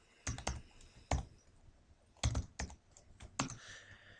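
Computer keyboard keys are typed in several short, close bursts of clicks, with quiet pauses between them and no talking.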